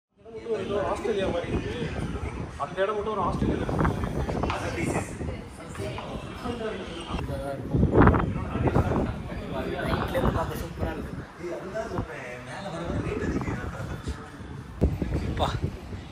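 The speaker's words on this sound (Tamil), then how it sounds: "எந்த அளவுக்கு காற்று அடிக்குதுன்னு நீங்களே பாருங்கள்" Strong wind buffets the microphone on a 12th-floor Chennai apartment balcony, a continuous rumbling gusty roar that runs under someone talking the whole time.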